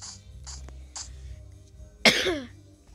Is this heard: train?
no